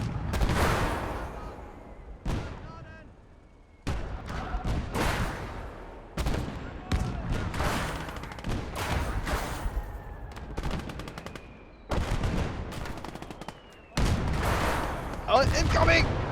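Mortar and artillery fire in PTSD Sim booms repeatedly in heavy, close blasts, spaced every second or two, with crackling gunfire and debris filling the gaps between impacts.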